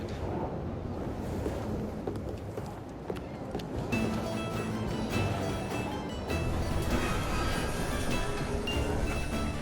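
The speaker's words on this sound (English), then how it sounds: "at least we have a train now" A steam-era train in the Victorian London of Assassin's Creed Syndicate rumbles steadily with broad, continuous rolling noise, growing a bit fuller partway through, with faint metallic tones over the drone and no talking.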